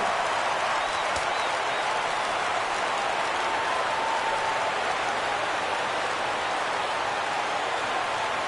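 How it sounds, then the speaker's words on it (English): Crowd at a baseball stadium during a Cubs versus Yankees game applauding and cheering on a full count, a dense, steady roar of clapping that stays loud and unbroken throughout. "Crowd gets up for the 3-2."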